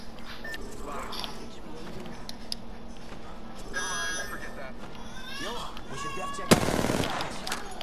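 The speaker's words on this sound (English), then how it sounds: "I was trying to see the recoil on this gun and it's really bad." Gunfire in the video game Apex Legends, a single sharp loud shot burst late on, with voices talking over game noise and faint electronic beeps throughout.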